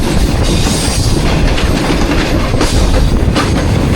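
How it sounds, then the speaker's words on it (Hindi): The Shalimar Express overtakes a Super Parcel train on a parallel track, a loud continuous rush of rolling wagons with rhythmic clickety-clack of wheels over rail joints, heard close from on board. "ये सुबह जो गुजरी थी सुपर पार्सल को ओवरटेक मार रहे हैं हम"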